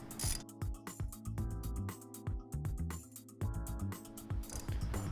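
A ratchet turns a bolt on a car strut of a Ford Focus SEL during a lowering spring install: rapid metallic clicking in uneven bursts, close and fairly quiet, with short pauses between strokes and no talk.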